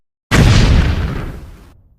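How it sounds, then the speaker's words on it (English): A single loud explosion from a Doom total-conversion mod's fireball-throwing volcano geyser bursts suddenly after a brief silence, then its rumbling tail decays over about a second and a half. "an explosion sound"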